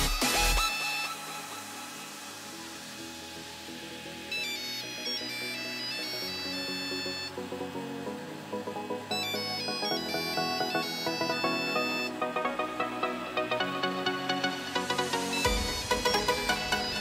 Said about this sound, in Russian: звонок вызова продолжает поступать